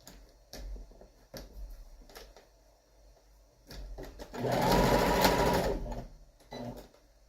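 A sewing machine stitches fabric for a mat in a loud steady burst lasting a couple of seconds, with softer intermittent clicks and short runs before and after.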